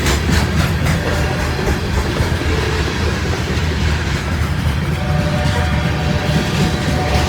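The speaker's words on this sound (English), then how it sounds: "Old grain train." A freight grain train passes very close, its deep rumble and rolling wheel noise loud and continuous, with faint rail squeal and no talking.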